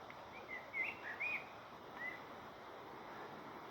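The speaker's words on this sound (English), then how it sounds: "And the birds, very happy." Several brief, faint bird chirps sound near a fern-lined path in Whanganui, scattered over the first two seconds above a soft wind-noise hiss.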